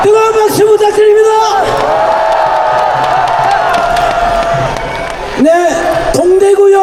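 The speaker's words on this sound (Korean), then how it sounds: "뜨거운 박수 부탁드립니다." A large rally crowd in the Dongdaegu Station square in Daegu cheers and shouts in a loud sustained roar, with amplified speech briefly audible at the start and again near the end.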